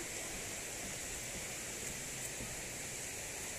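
River water rushing over large rocks at the Batu Badak tourist site in Majalengka: a dense, unbroken roar of flowing water, close and even, with no distinct voices.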